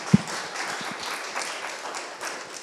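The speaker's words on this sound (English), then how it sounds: "round of applause for everyone for showing up today" Modest audience applause at a streetwear business talk, steady scattered clapping at moderate distance after one sharp close clap at the start.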